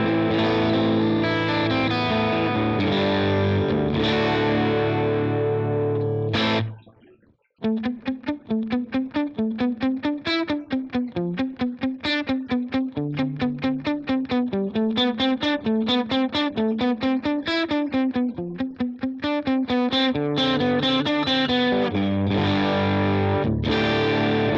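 Electric guitar played through a stereo reverse ducking delay, a distorted chord wash giving way after a brief gap to a rapid, rhythmic picked line that swells and repeats, loud and steady, with no voices.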